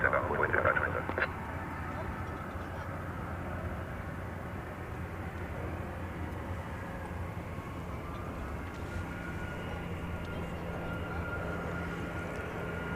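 An aircraft at DFW Airport rumbles steadily and fairly loudly for the whole stretch, under tower radio chatter clearing a takeoff from runway 18 left.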